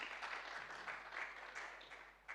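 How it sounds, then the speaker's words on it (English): Audience at a political summit in Rome applauding after a panel, a steady, faint wash of clapping heard from a distance with no voices over it. "Massive round of applause, everyone."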